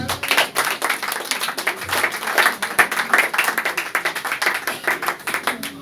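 Sustained applause from a church congregation acclaiming the Lord, many hands clapping densely and steadily throughout, close and loud.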